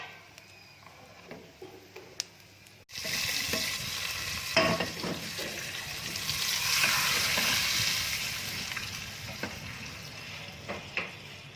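Cumin, ajwain and masala tipped into hot oil in a pan for dal masoor, starting with a few soft clinks, then a sudden loud, steady sizzle with occasional stirring scrapes and spatters.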